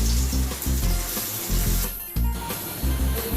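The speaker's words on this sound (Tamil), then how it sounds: "இப்போ தாளித்து கொட்டியாச்சு" A hot spiced-oil tempering sits poured over urad dal chutney and crackles, a loud, dense sizzle close up that continues throughout with only a brief dip.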